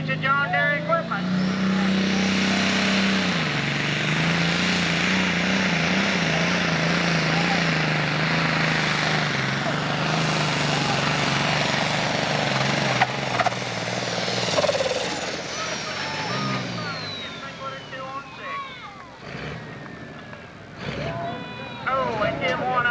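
John Deere 4955 tractor with a five-cylinder engine roaring loudly and steadily during a 1995 Illinois tractor pull, a sustained heavy drone that fades toward the end, with an announcer's voice over it.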